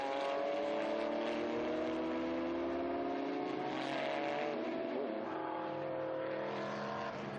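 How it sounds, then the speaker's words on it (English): Historic race cars at the Estoril circuit, including a Chevrolet Corvette Z06 and a Porsche, roar past in close succession with layered engine notes rising and falling, loud and continuous with brief tyre squeal. "Here's the Chevrolet Corvette. Z06 just been outbraked by the 12 Porsche of Gemper."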